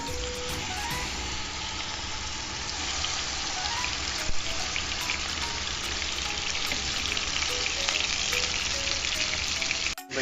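An egg fries in hot oil for vegetable fried rice, producing a dense, steady, close sizzle that runs unbroken, with a faint clink near the end.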